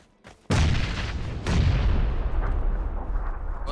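Grenade blasts in a competitive online shooter game, one sudden loud boom followed by a second rumbling explosion that rolls on and slowly fades.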